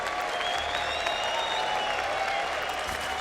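A StarCraft 2 grand final crowd at IEM Katowice 2016 applauds in a dense, continuous wash of clapping and cheering that holds steady from start to finish.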